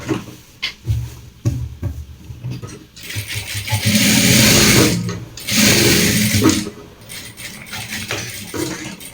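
A sewing machine stitching a pocket onto a kitchen apron, short bursts of stitching followed by a longer steady run and a few clicks and knocks of handling, close and fairly loud.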